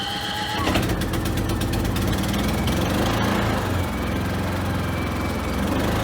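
A Predator 3500 watt inverter generator converted to run on propane starts up within the first second and then settles into a steady, loud, close engine drone that continues throughout.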